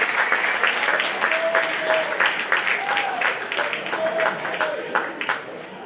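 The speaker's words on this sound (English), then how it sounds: "give me one last round of applause for the future business leaders of America" High school crowd applauding state champion Future Business Leaders of America members, a broad wash of clapping filling the hall, with voices and a few brief shouts rising over it.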